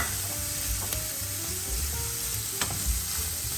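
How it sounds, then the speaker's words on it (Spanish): Green onion frying in a hot pan while being stirred, a loud, dense, continuous sizzle and crackle close by, with occasional scrapes of the spoon throughout. "Vamos a agregar también la cebolla en rama. Seguimos revolviendo."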